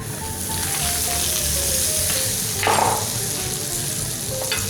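Butter sizzling in a hot frying pan, ready for diced apples, makes a steady loud hiss with a brief flare of crackling near the middle, heard alone without talk.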